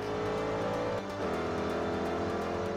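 In the racing game Forza Horizon 2, a Mercedes SLK55 AMG drifts with its engine droning loud and steady while the tires slide, its pitch dipping briefly mid-slide, with no voices.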